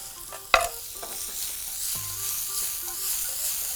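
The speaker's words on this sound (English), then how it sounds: "I want to quickly just flash fry all that seafood." Thinly sliced squid hits a hot pan with a sharp burst, then sizzles in a steady hiss as it flash fries for seafood pancake, with a few light clinks and stirring sounds.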